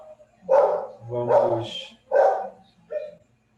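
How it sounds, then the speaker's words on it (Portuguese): A dog barks four times in the background of a church family service, loud, evenly spaced, with a voice briefly speaking. "Tem um cachorro no fundo aí."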